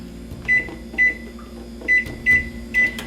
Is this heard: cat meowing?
no